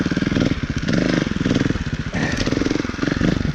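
A 2018 Beta Evo Factory 300 4T trials motorcycle's four-stroke engine chugs and putters close by at low speed, its pulsing thump swelling and easing with small throttle changes as it is ridden.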